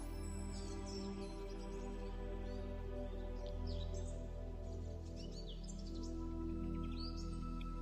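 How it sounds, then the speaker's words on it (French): Faint birdsong chirps and trills drift over a steady low hum, distant and soft throughout. "Tu peux entendre les oiseaux qui chantent."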